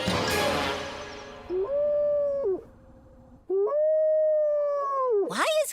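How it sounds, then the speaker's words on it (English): A cartoon raven howls like a wolf, giving two long, steady, wavering howls that rise and fall, after a brief burst of noisy sound at the start. "Why is Clever howling?"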